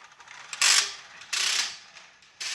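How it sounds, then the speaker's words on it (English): A 50-foot air hose reel, converted into a rinseless sprayer reel, ratchets in short mechanical clicking bursts as hose is pulled, close by with no speech. "I converted an air hose reel to be my rinseless sprayer."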